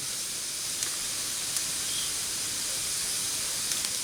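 Thick cut hickory smoked bacon sizzles in a cast iron skillet over hearth coals, a steady, fairly faint hiss with a few tiny pops and no talking.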